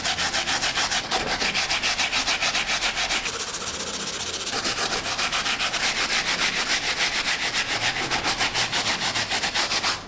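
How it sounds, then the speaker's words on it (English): A wire-tip bristle brush dipped in cleaning solution scrubs a mesh knit sneaker in rapid, rhythmic strokes, close up and continuous for the whole stretch, with no talking. "we will go back in with our wire tip bristle brush now to go in and scrub a lot of that off"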